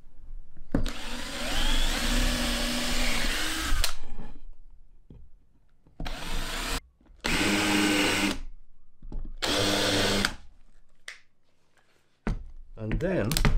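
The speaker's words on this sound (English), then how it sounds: "what I'm going to do is just put a couple of pilot holes through the middle of it." A power drill boring pilot holes through a wooden batten for a tambour door in a Vauxhall Vivaro campervan conversion, several loud close bursts of whirring with short pauses between them, and a voice talking at points.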